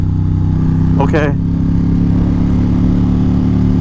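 Low steady idle rumble of a Ducati XDiavel motorcycle with a Termignoni exhaust, a constant deep engine drone running throughout while a person briefly speaks over it.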